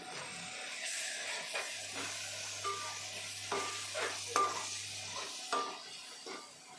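Tomatoes go into a hot pan for a chole curry, bringing a quiet sizzle with soft stirring scrapes and occasional clinks of a utensil against the pan.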